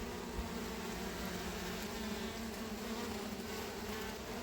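Honeybee swarm buzzing at a hive as it is added to an existing colony, a steady dense drone of many bees holding level throughout without any talk.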